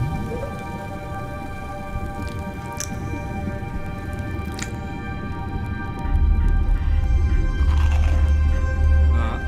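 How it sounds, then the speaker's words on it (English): A restaurant sea soundscape of washing, splashing water with wet, squishy crunching textures, a steady wash that swells louder in its second half. "which has got the sounds of the sea where the jellyfish were floating."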